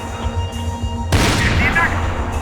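Gunfire erupts in a Max Payne 3 shootout against enemies, a sudden loud burst after a quieter stretch, dense and sustained with crackling impacts; a voice is heard briefly amid the shooting.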